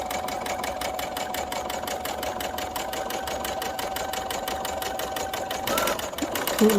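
A sewing machine stitches around a one-piece dress sleeve in a rapid, even mechanical chatter held at a constant pace, close and loud, with a small knock near the end.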